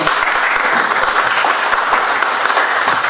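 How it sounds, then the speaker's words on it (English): A crowd gathered at a community forum gives the mayor a continuous round of applause, dense, even clapping filling the space at close range without any pause. "Okay, an applause for Mr."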